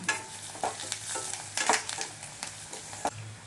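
Curry leaves added to hot oil with onions in a pan, a steady soft sizzle with a few sharp scraping stirs of a spoon against the pan.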